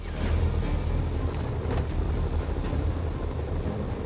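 Helicopter in Marvel's Spider-Man Remastered video game, a steady whirring rotor rumble holding at a constant level throughout with no speech.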